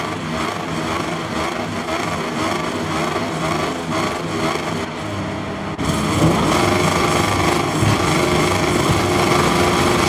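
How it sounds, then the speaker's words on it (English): MotoGP motorcycles launch at full throttle from the start of the Indonesian Grand Prix at Mandalika, a dense high-pitched engine roar from the pack that swells louder midway and holds steady. "Full throttle, it's lights out, and we are racing in MotoGP in Indonesia."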